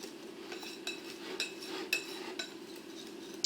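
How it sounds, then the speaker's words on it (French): Cake batter for a white chocolate fondant being mixed with vanilla sugar in a bowl, quiet soft stirring with light utensil taps and clinks against the bowl at irregular intervals. "On va mélanger tout ça tranquillement."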